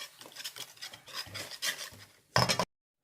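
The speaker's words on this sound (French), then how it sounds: "Et maintenant, on va mélanger." Crêpe batter being mixed in a bowl, rhythmic rasping whisk strokes close by, ending in a brief louder burst of scraping before stopping.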